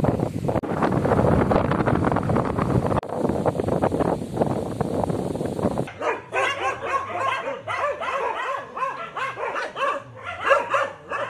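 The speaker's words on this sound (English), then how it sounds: "a group of dogs captured by reporter Mahesh Goekar from Bicholim" A group of street dogs in Bicholim, Goa, barking repeatedly in uneven overlapping bursts outdoors, preceded by several seconds of heavy wind rumble against the microphone.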